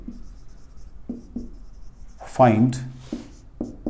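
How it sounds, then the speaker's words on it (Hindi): Someone writes on a board during a physics lesson, producing short, faint scratchy strokes that come in intermittent bursts while someone speaks close by. "यहां से यहां लिखता हूं"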